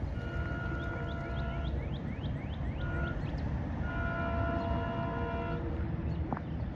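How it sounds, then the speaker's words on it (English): A four-car SEPTA commuter train passes the Hatboro crossing in Pennsylvania, giving a steady, fairly close rumble with a series of rising whistle-like tones and a sustained horn-like note near the middle. "Alright, here comes the train."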